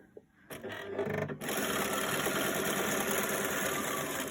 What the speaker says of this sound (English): So for my heart, I'm just going to begin sewing.